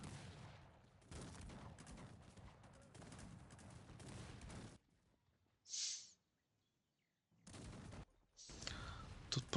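Cannons firing during a battle in the strategy game Cossacks 3: dense, rumbling volleys of blasts roll on for several seconds, fall to near silence, then return in fresh bursts, with a brief high chirp in the lull.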